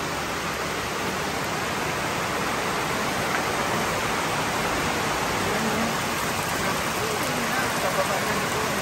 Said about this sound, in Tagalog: Dami ng tubig pababa dito.